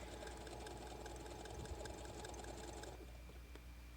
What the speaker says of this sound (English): I was also adjusting my stitch length as I was sewing, just to ensure that the fabric was fitting properly under the foot